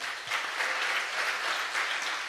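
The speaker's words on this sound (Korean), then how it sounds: "우리 박수로 환영하겠습니다" A church congregation claps to welcome visiting newcomers during a Sunday service, a steady wash of many hands applauding throughout, fairly close and even.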